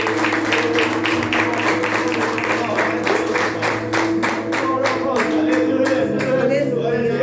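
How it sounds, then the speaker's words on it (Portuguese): A Pentecostal church congregation claps for Jesus during a service, rhythmic steady hand claps in time over held organ or keyboard chords, with a voice speaking over it. "Você pode dar uma salva de palmas para Jesus"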